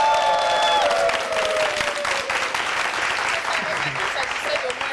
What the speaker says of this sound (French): Acclamation pour l'accueillir, s'il vous plaît.